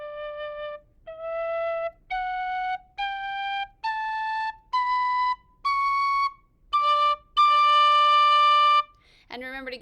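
A tin whistle plays an ascending scale of about nine clear, separate notes, each started crisply with the tongue and divided by short gaps. The last note rings longest before a brief breathy noise ends it.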